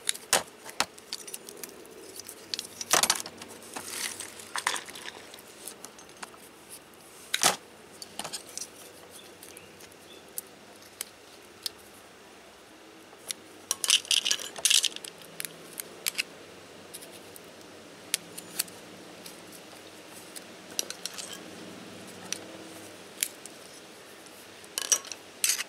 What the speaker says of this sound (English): we're going to take the dikes and just cut the